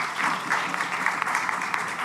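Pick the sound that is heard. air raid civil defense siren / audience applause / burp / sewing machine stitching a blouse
audience applause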